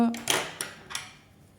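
Scissors snipping wool yarn during crocheting, two or three quick close metallic cuts in a row, fading into quiet afterward.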